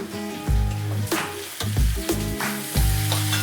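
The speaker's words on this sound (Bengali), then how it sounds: "এখন আমি এর মধ্যে দিয়ে দিচ্ছি গ্রেট করে রাখা আদা" Lightly fried onion in a pan with freshly added grated ginger sizzles loudly and continuously, broken by several rhythmic spatula scrapes and knocks against the pan.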